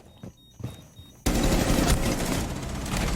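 Gunfire in the Rainbow Six Siege video game on the Bank map: a few scattered single shots first, then a sudden loud, sustained burst of rapid automatic fire that carries on to the end.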